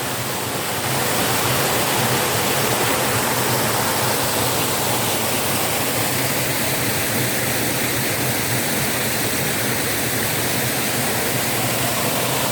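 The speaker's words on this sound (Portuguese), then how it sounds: "Olha que cachoeira linda aí." Steady, dense roar of a forest waterfall at a sanctuary, heard close and loud, a constant broadband rush with no talk over it.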